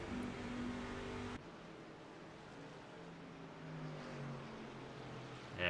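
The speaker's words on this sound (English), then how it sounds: "Sounds like he's got an engine power issue." A race car engine with a power problem hums and revs steadily at a distance, a faint, even motor drone with shifting pitch and no talk.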